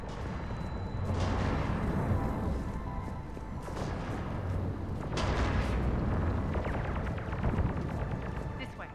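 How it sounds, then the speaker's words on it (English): Cannon artillery fire in the video game Mass Effect during a battle, heavy booms and rumbling blasts recurring every few seconds amid dense, continuous combat noise, with a voice talking. "Those cannons have to be stopped."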